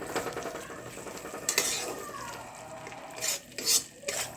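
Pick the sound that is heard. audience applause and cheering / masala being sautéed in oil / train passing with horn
masala being sautéed in oil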